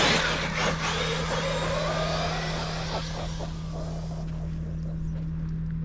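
A Traxxas Maxx Wide Body RC truck runs an on-road speed test, its loud, high-pitched electric whine sweeping past at close range and then fading as the truck speeds away.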